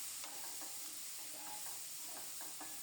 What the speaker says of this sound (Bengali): এখন শুধু নেড়ে চেড়ে পেঁয়াজ রসুনটা একটু বাদামি হওয়া পর্যন্ত ভেজে নেব।